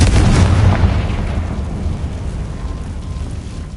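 Loud, dense explosive burst from the Confringo fire spell in Hogwarts Legacy, a booming blast that rumbles and slowly fades over a few seconds, with no voices.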